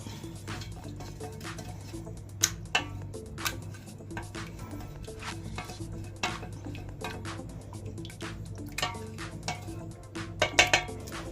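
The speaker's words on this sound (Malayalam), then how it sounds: "ഇനി ഇത് നന്നായിട്ടൊന്ന് മിക്സ് ചെയ്യാം" A spoon stirs dal fry (lentil curry) in a pot, making soft scraping and scattered metallic clinks against the pot's sides, quiet and close, with a few sharper knocks.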